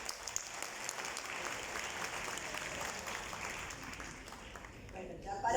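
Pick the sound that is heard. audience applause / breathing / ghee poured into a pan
audience applause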